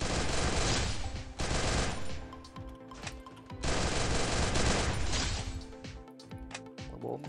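FAMAS rifle gunfire in Free Fire, long loud automatic bursts in two main volleys separated by shorter shots and mechanical clatter, with no talk.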